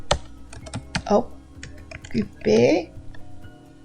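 Typing on a computer keyboard while writing text in Microsoft Word: rapid clicking keystrokes in short bursts, close and fairly loud, with a voice speaking briefly over them.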